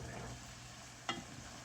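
Pork sausage frying in a skillet sends up a soft, steady sizzle, broken by one brief scrape or clack of a utensil as it is stirred.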